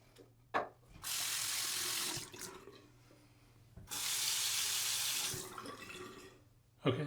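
Tap water runs into a bathroom sink during wash-up after a shave with a Henson AL13 razor, in two steady bursts of about a second and a few seconds, separated by quieter handling noise and a couple of clicks.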